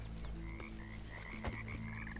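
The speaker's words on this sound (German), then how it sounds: "Das ist eine Kröte wahrscheinlich." A toad in the video game Bramble: The Mountain King gives a quiet, rhythmic croaking, repeated low pulses layered over a continuous hum of game ambience and music, with no talking.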